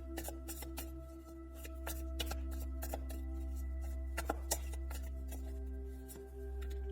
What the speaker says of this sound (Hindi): दूसरे डेक से भी देख लेते हैं आपके लिए क्या कार्ड है यहाँ पर